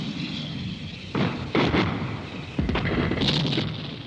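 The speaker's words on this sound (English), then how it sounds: "the enemy might just respond with artillery fire" Artillery fire in a barrage, several heavy booming impacts arriving at irregular intervals over a rumbling background, loud and fairly close.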